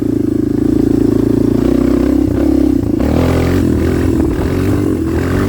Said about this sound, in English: let's wheelie up this hill